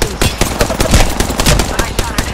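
Rapid video game gunfire cracks out in dense, loud bursts, with shots coming close together for the whole stretch.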